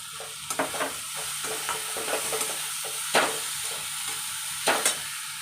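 Spices, kokum and raw mango roasting in a pan for dry shrimp chutney, with a soft steady sizzle and intermittent scraping stir strokes close by, no talk.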